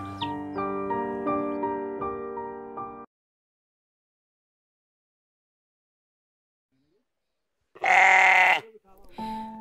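Sheep kept by a family in Ethiopia, heard as one loud, close, wavering bleat after a stretch of silence, with brief music at the start.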